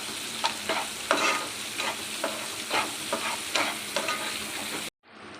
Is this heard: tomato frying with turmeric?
yes